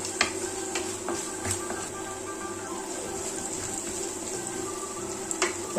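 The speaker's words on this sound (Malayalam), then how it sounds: "ഒരല്പം ഉപ്പ് അങ്ങോട്ട് ചേർത്ത് കൊടുക്കാം എന്നിട്ട് നല്ലൊരു ഇളക്കി ഒന്ന് മിക്സ് ചെയ്തിട്ട് നമ്മൾ വഴറ്റി കൊടുക്കും" Sliced onions sautéing with salt in a pan for pepper chicken, with a low steady sizzle and occasional clinks and scrapes of stirring, fairly close and moderately loud, no talking.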